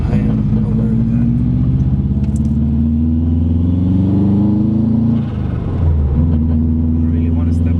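2005 Subaru WRX engine with a misfire, a loud close rumble rising and falling as it accelerates, with a brief dip before pulling again.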